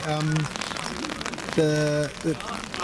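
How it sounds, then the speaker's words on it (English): Rain patters steadily during an outdoor UK American football broadcast of Hertfordshire Cheetahs versus Rushmoor Knights, a constant hiss of drops running beneath intermittent commentators' voices. "I'm starting to think it might be these raindrops causing us problems"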